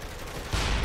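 Gunfire in the video game Saints Row The Third, a dense burst of rapid shots that swells louder partway through, heard alone without talk.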